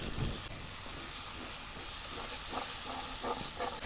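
Turmeric, chili powder and spice water sizzle loudly in a hot pan as a Bengali ghugni masala cooks, a dense continuous hiss with soft stirring scrapes.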